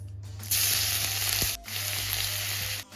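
Garlic sizzles and fries in a hot pan, a bright crackling hiss that bursts in loudly, breaks off briefly after about a second, then resumes, with faint stirring clicks underneath.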